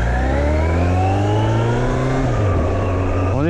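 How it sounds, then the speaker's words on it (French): A Yamaha XJR 1300, a 1300 cc Japanese four-cylinder, rumbles smoothly at about 50 km/h, heard from inside a helmet with the visor open. Its steady engine drone shifts pitch slightly under constant, loud wind rush. "On est comment sur la prise de son, la visière ouverte à 50 km/h"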